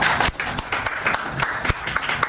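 A group claps together in a classroom, a brisk scatter of hand claps that continues steadily for a couple of seconds.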